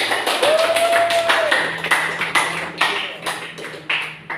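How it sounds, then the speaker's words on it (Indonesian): Classroom applause for a group presentation, a short burst of scattered hand claps from students in a room, with a brief electronic tone and chatter mixed in. "Kita berikan aplaus"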